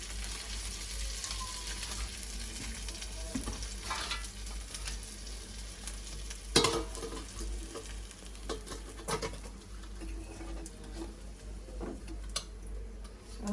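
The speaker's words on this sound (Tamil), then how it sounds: "கருவாடு பொரிச்சாச்சு, மிளகாயும் பொரிச்சாச்சு" Dried fish and chillies frying in oil give a steady crackling sizzle with scattered pops and sharp clicks, fairly faint and close, occasionally broken by the clatter of a utensil, with no talking.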